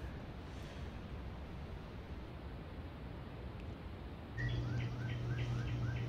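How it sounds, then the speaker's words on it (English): Birds chirping outdoors on an ordinary morning, a series of short repeated calls entering partway through over steady broadband background noise, fairly faint and with no talking. "Birds, trees. Regular outside, like morning time."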